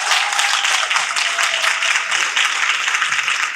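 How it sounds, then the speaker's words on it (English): An audience applauds a youth student council at a panel discussion, loud, dense clapping from a sizable crowd that holds steady throughout, with no voices over it. "Please give them a round of applause."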